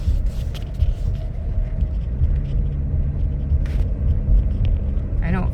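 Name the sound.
2018 Jeep Cherokee driving and shifting gears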